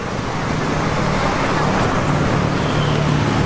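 Steady, loud street traffic in Colombia with motorcycles and cars streaming past at an intersection, a continuous dense roar close by.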